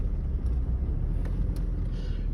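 A manual-transmission car pulls away in first gear, its engine a steady low rumble heard from inside the cabin, with a few faint clicks and a slight rise near the end.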